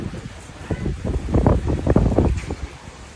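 A strong dusty windstorm gusts outside a house, with rough, surging wind noise battering the microphone in uneven bursts.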